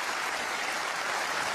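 A snooker crowd applauds a century break in a match between Ronnie O'Sullivan and Zhang Yong, a steady wash of clapping heard from a distance at moderate volume.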